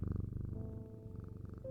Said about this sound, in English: Why aren't you purring, kitty?